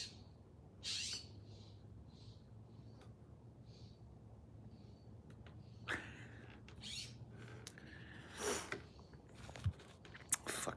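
Outdoor scrub jays give harsh, scattered squawks and calls at varying distances over a faint low hum, with several sharper calls near the end.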